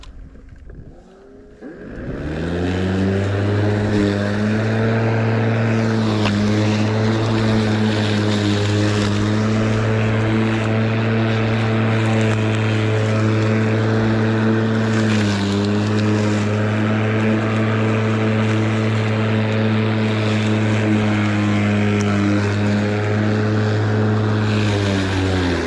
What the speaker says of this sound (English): the petrol mower is actually a lot louder than the electric one.